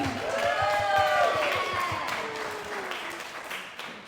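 Conference crowd in Saipan clapping steadily for a speaker, dense applause with a couple of high cheers or whistles riding on top, fairly loud and even throughout the few seconds.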